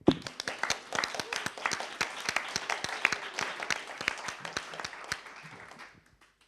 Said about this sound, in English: please join me again for a big round of applause for all the project team and the speakers